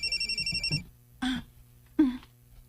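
A phone rings with a fast electronic trill for under a second for an incoming call, then stops, followed by two short, sharp vocal bursts in a quiet room.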